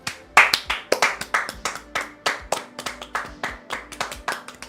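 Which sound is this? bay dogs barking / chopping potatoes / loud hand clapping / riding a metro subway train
loud hand clapping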